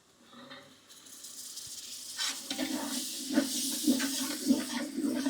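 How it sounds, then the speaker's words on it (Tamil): Ginger-garlic paste sautéing in oil for a large batch of mutton biryani, a steady close sizzle that builds up from quiet and keeps hissing and crackling as the paste is stirred, with no talk over it. "இது நல்லா பச்சை வாசம் போகிற வரைக்கும் வதக்கிங்க"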